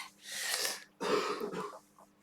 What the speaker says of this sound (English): Oh, bad cough.